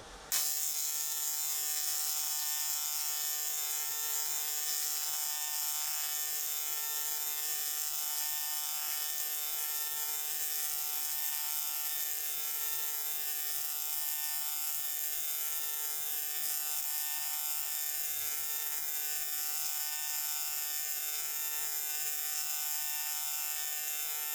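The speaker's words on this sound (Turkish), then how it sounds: "1 mm alüminyuma 5 serisi alüminyuma bir kaynak yapacağız" AC TIG welding of 1 mm 5-series aluminium with a Magmaweld Monotig 220ip, giving a steady, loud electric buzz with a high-pitched hum that starts abruptly and holds evenly throughout.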